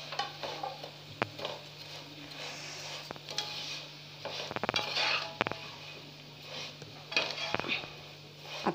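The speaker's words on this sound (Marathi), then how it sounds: "आता फोडणी थोडा वेळ परतून घेऊया।" Roasted vermicelli is stirred into a tempering with steamed potato in a pan for shevyacha upma, with a spoon repeatedly scraping and clinking against the metal over a faint sizzle, in irregular close bursts.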